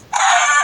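A chicken in the video game Minecraft gives a single short, bright, close-up cluck that lasts under a second and stands alone without talk.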